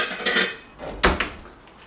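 A butter knife clinks against dishes in a kitchen: a few light scrapes and then one sharp, close metallic tap followed by a softer clatter.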